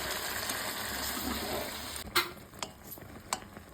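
Water poured into food frying in a home kitchen pan: a steady sizzle gives way to a few sharp clinks and scrapes of a utensil against the pan, fairly close and quiet, with no talk.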